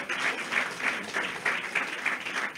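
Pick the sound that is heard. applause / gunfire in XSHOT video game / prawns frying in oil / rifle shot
applause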